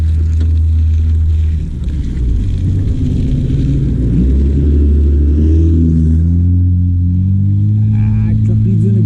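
A pickup truck engine running with no exhaust system fitted, a loud, steady low rumble that fills the whole stretch close to the mic, with faint wind and some speech-like noise mixed in.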